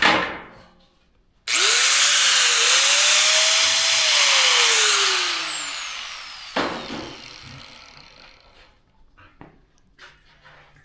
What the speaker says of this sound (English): That's why I heard the grinder like slow down.